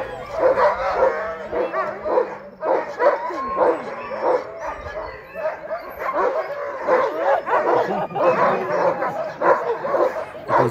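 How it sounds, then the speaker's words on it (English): A pack of sled dogs at a dog sledding kennel near Denali National Park, Alaska, barks, yips and whines continuously in an excited, overlapping chorus, loud and close throughout. "the dogs are getting extremely excited to, I guess, demonstrate to us how they really function"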